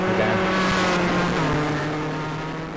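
Rally car engine in the Richard Burns Rally video game, throttled and braked into a corner. A steady, loud engine drone holds with a slight pitch shift, then eases and drops toward the end. No talking.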